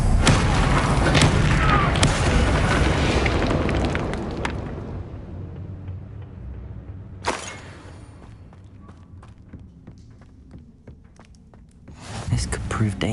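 A Bombarda spell in Hogwarts Legacy detonates with a loud, broad blast and rumbling tail that decays over several seconds, followed by a sharp hit and another explosive burst near the end.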